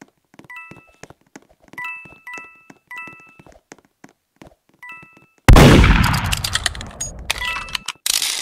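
A sheriff's gunshot in the Roblox game Murder Mystery 2, one loud, sudden blast midway that rings out and decays, preceded by soft chiming game tones and light clicks, with a smaller thump near the end.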